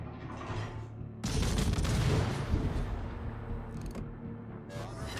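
Naval guns fire in World of Warships, a broad heavy boom of a salvo bursting in at once and rumbling on loudly for several seconds, followed by fainter thuds.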